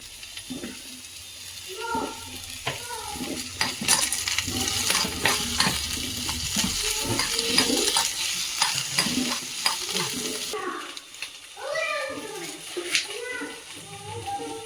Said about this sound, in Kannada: ಈ ಟೊಮೊಟೊ ಸ್ವಲ್ಪ ಫ್ರೈ ಮಾಡ್ಕೊಳ್ಳೋಣ